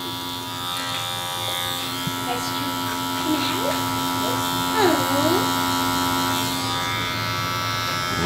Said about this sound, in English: I used my clipper to make that first guideline.